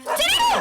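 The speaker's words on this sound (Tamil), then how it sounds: "ஜாக்கி ஏன் இப்படி கத்துற?" A dog gives one short, strained whining bark, close and fairly loud, in a comedy movie scene.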